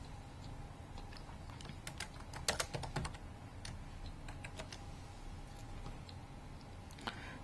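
Text typed into a PowerPoint 2010 slide on a computer keyboard, a steady run of close, crisp key clicks with a few quicker bursts, over a quiet room hum and no talk.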